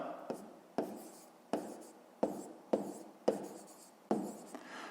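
Pen strokes on paper during a fifth-grade math lesson, about eight distinct scratchy strokes in an uneven rhythm, close and fairly quiet, with soft speech between them.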